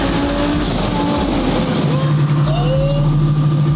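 A twin-turbo Lamborghini with a fully built billet transmission and aggressive clutch drives past close and loud, its engine droning steadily before the pitch drops as it shifts gear midway.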